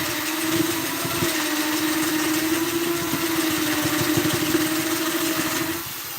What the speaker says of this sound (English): still just drilling to fit a circuit board onto a thing.